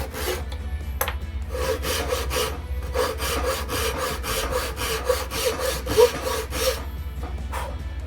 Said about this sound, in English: make the first kerf on this using a square and our handsaw, and this will allow us to cut each of the pieces to length